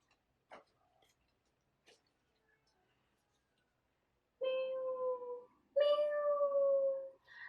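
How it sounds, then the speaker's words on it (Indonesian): A cat gives two drawn-out meows close by, one after another, following a few faint clicks and taps in near silence. "menendang jauh-jauh kucing ini yang mengeong"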